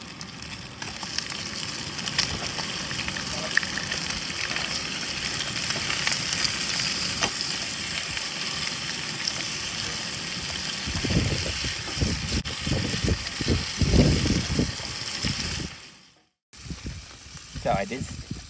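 Hotdogs, scored so they open up as they cook, frying in a pan outdoors at Joshua Tree, giving a steady sizzle throughout with louder stirring or crackling bursts toward the end before a short pause.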